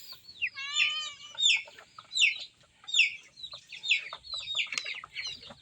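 Broiler chickens around 30 days old clucking and peeping in a pen, a run of soft bird calls in repeated bursts, fairly quiet and close with no talking.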